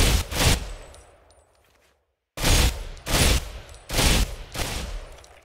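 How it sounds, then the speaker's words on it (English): Burst-mode gunfire from a medium-barrel weapon in Ghost Recon Phantoms: one loud burst, a fading tail and near silence, then three more sharp bursts in quick succession, each with a short ringing decay. "I think we have different burst mode with medium barrel"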